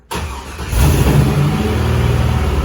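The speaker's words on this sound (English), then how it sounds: "So turn the key on. You'll hear the fuel pump come on, and you give her a quick start." A Jeep engine cranks briefly, catches and revs up, then settles into a steady, loud idle.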